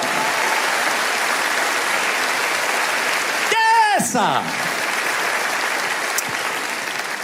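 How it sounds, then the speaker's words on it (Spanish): A church congregation applauds steadily and loudly, a dense wash of clapping broken midway by a short shouted exclamation from one person before the clapping carries on. "Alguien tiene que aplaudir más que eso"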